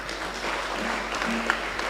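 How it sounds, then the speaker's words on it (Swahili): A church congregation at a Kikuyu baptism Sunday service claps to welcome visitors, a brief, moderately loud patter of hands filling the room. "Tuwapigia makofi."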